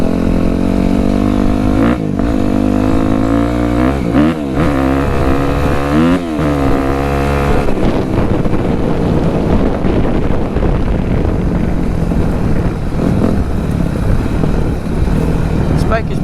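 A dirt bike ridden in a backyard, its engine droning and revving in repeated rising and falling surges up close, with wind buffeting the microphone and a voice talking over it.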